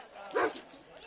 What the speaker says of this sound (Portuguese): um cachorro do meu lado